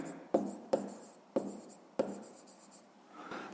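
Pen or pencil writing out a sum on paper during a fifth-grade maths exercise, four sharp scratchy strokes about half a second apart, close and fairly loud, with a softer rustle at the end.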